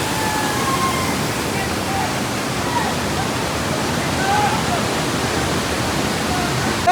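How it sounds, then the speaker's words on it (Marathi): Mandavkada waterfall pours in a constant roaring rush of water, a dense, even wash of noise heard close by for the whole stretch. "आणि इकडे काय तर पाणी जातं धबधब्याचं बघा."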